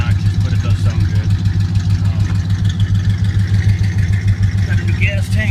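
A 1966 Cadillac Fleetwood with new exhaust pipes idles steadily with a low, even rumble close by, while someone talks over the engine throughout.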